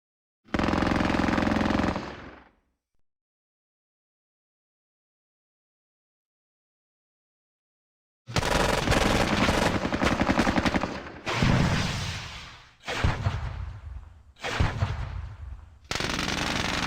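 Bursts of automatic gunfire from the wargame Squad Battles Eagles Strike, Barkmann's War scenario: one short loud volley, a long silence, then sustained heavy firing in several close, loud rattling bursts.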